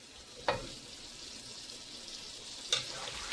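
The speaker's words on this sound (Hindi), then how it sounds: "तो हम मीडियम आंच पे हम इसको फ्राई करेंगे।" Chicken karahi fries on medium heat with a steady, moderate hiss and sizzle, broken by two brief clatters of utensil or pan contact, one early and one near the end, with no voices.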